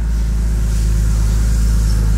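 A Nissan R33 Skyline pulls away in first gear, a steady low engine drone close by with a faint rise in revs and no talk.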